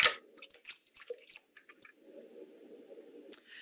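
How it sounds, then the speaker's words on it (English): Paper pulp slurry for handmade paper is poured, starting with a sharp wet splat and scattered squishy drips, then a soft, continuous pouring gurgle near the end, with no talking. "all you need to do from here is just pour your slurry in"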